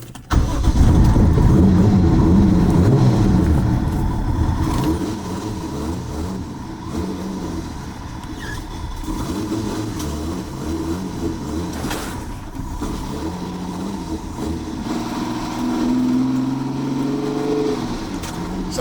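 An 800HP Lexus GS300 with a 2JZ engine starts with a loud throaty rev, then drives on with a sustained rumbling exhaust note that rises again toward the end, close and alone without talk.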